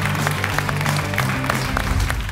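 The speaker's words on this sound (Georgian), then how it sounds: "დამსახურებული აპლოდისმენტები შენ" An audience at a Georgian TV comedy game show gives a contestant steady, loud applause, with dense clapping sustained throughout and no pause.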